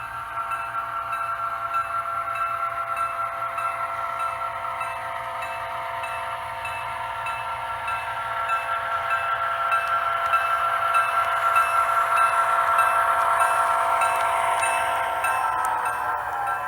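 Model railroad engine runs along the track at a club layout, giving a steady whining motor hum with faint hiss that rises slightly partway through, with no talking.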